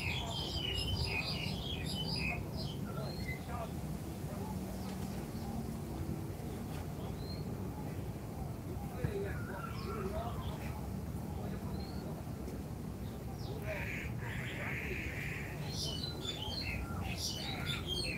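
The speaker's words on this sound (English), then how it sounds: "It's a bird. It's not the squirrel." A bird calls along a wooded trail in Hong Kong with scattered high chirps and tweets, faint against a steady background hiss and distant ambient noise.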